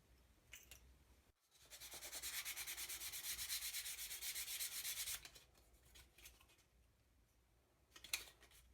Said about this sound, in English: So now I'm just taking a 600 grey sandpaper and just moving off the edges.